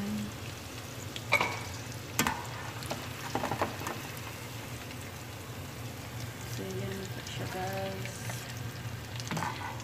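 Sweet and sour chicken pieces fry in hot oil with a steady, dense sizzle and crackle throughout, broken by a few louder clinks and stirring knocks, while a voice talks over the cooking.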